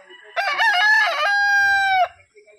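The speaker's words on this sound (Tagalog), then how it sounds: "Ito yung munting manukan natin." A single rooster in a small backyard chicken coop crows once, loud and close, in a drawn-out call with a long held ending.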